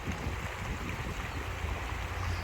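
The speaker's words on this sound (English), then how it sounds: "sitting here and listening to the water flow" Water flowing steadily at a natural waterside spot, a continuous close rushing wash that stays even throughout with no voices.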